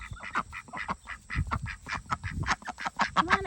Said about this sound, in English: Duck, duck, duck, duck. Hey, duckies.